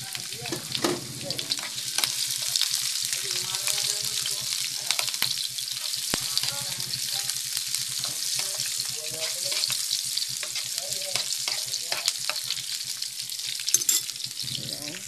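Chicken pieces with garlic and a little soy sauce sizzle steadily in a wok, with scraping stir strokes and occasional clinks running throughout; a faint voice appears only briefly.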